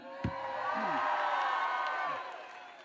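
A large crowd at a political rally in Macon roars and cheers steadily, with whoops rising over a broad sustained swell that fades near the end.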